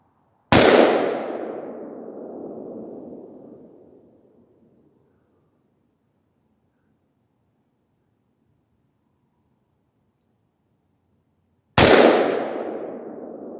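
Two sharp, loud AR-15 rifle shots fired one-handed outdoors, about eleven seconds apart, each with a long fading echo and silence between.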